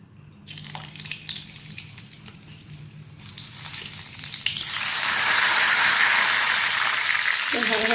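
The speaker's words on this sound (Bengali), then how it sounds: "এবার আমি গোটা গরম মশলাগুলো তেলের মধ্যে দিয়ে" Whole garam masala spices drop into hot oil and burst into a loud, dense sizzle that holds steady to the end, after a quieter stretch of faint clicks and handling noises.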